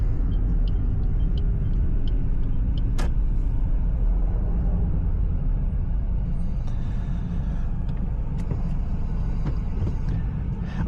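A manual car pulls away as the clutch is released, a loud, steady low rumble from inside the cabin with a few faint clicks and ticks over it.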